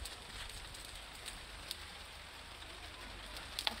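Steady rain falls outdoors in a village, a continuous soft hiss with a few sharper drop ticks near the end, no voices.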